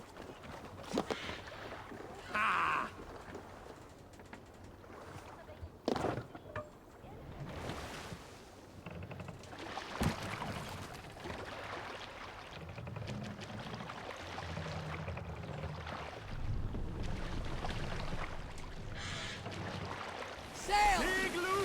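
Sailing boat gliding over the sea in Assassin's Creed Valhalla, with steady broadband wash of water and wind, intermittent splashes and creaks, and a few sharp knocks near the start and middle.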